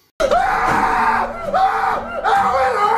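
A loud, close voice screams in pain in three long, drawn-out wailing cries, each rising and falling in pitch.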